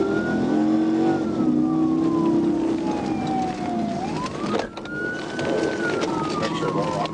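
A police siren wails up and down over the roar of a speeding car during a pursuit of street racers, loud and close throughout.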